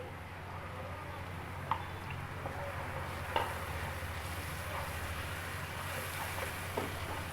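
Tomato and green chili paste stirred in a cooking pot for beef aloo gosht, a steady low sizzle with a few soft scrapes and clicks of the spoon, no voices.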